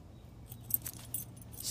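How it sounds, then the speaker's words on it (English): A bunch of keys gathered up for a puppy's collar jangles and clinks softly nearby in short irregular rattles, alone and fairly faint. "Now I've got these keys."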